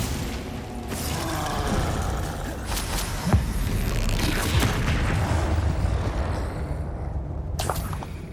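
A Glacius freezing spell is cast in Hogwarts Legacy, a loud crackling, whooshing burst of magic with mechanical creaks and booming combat effects layered under continuous game sound, with a sharp crack partway through.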